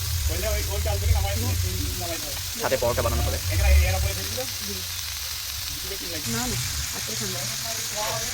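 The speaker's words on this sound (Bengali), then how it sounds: "এবার এখন আলু ভাজা হচ্ছে" Potatoes fry in a pan at an outdoor picnic cookout, giving a steady, close sizzle throughout while people talk over it.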